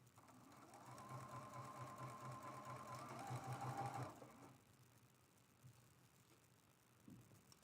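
A sewing machine stitches a quarter-inch seam through quilt fabric, whirring steadily and close for about three seconds before stopping, followed by a couple of faint handling bumps.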